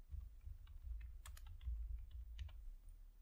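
JavaScript code being typed on a computer keyboard, a quiet run of irregular key clicks with a few sharper taps, close and soft, without speech.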